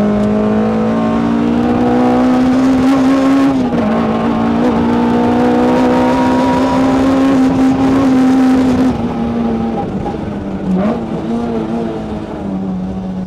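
An AE86, an S2000 and a Z34 race car accelerate hard together. A loud, sustained engine drone climbs steadily in pitch, then shifts and dips slightly toward the end.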